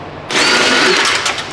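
A power tool whirs to loosen a part in the engine bay of an old body style Chevy truck, one loud continuous burst starting abruptly and running for just over a second close to the microphone.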